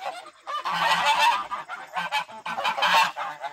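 Geese on a homestead honk loudly and close by, in repeated overlapping bursts of harsh calls from more than one bird, with no talking.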